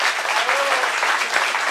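Audience clapping at an open political meeting in Kraków, a dense, steady wash of applause from a crowd, with a faint voice underneath.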